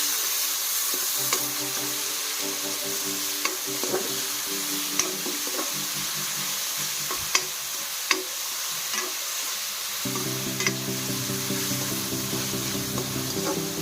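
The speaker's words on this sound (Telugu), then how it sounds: "పచ్చిమిర్చి ఉల్లిపాయ యాడ్ చేద్దాం. చిన్న పసుపు కూడా యాడ్ చేద్దాం." Green chillies, onion and turmeric sizzle steadily in a hot pan, stirred with repeated scraping strokes and a few sharp clinks of the spoon, close and continuous with no talking.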